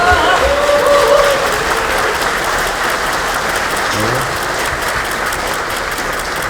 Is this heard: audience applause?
yes